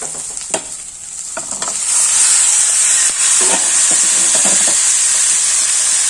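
Ivy gourd stir-fry for a chilli-flake mezhukkupuratti sautéing in a pan, a steady bright sizzle that grows louder after a couple of seconds, with scattered scrapes and taps of stirring throughout.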